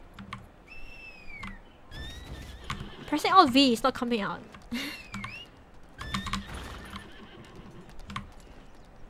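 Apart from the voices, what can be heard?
horse neighing and hooves after being summoned in the video game Lost Ark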